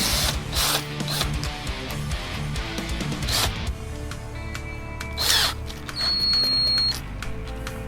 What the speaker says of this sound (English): drill a couple of starter holes